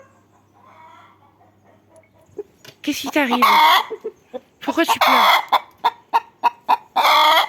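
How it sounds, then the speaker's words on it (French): Hens clucking and squawking loudly in agitated bursts close by, one about to lay an egg, with someone speaking softly at the start. "je vais aller voir les poules. Il y en a une qui veut pondre"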